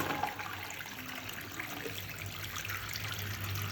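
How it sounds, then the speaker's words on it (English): Hot water runs from a household tap after a boiler is reset, a steady, moderately faint rush and trickle with no pauses. "Within 10 seconds, the hot water is coming on."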